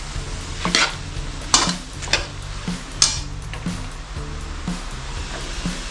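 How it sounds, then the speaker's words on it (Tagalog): Onions frying in a pan during butter chicken curry cooking, with a soft steady sizzle and a spoon scraping and stirring in irregular strokes, close and moderately loud with no talking. "Luto po natin ito yung sibuyas hanggang light brown lang"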